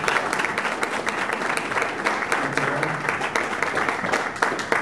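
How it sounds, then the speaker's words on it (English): A room full of people applauds a speaker at a talk, brisk, even clapping held at a steady level throughout with no speech. "let's give Brad Mann a big round of applause"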